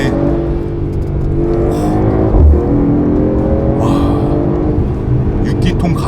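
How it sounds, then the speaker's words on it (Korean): A Mercedes-AMG GT 43 4-Door with a six-cylinder gasoline mild-hybrid engine revs its exhaust in a steady, throaty drone that swells slightly midway, with a faint voice underneath. "소리도 굉장히 고급스러운 데다가 배기음이 진짜 너무 좋아요"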